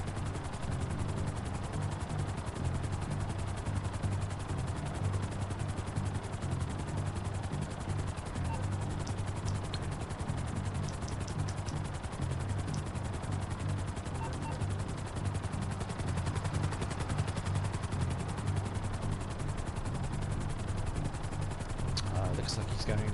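A helicopter in a PS4 video game drones with a steady low rotor thump throughout, with bursts of gunfire scattered on top and a voice talking over it at times.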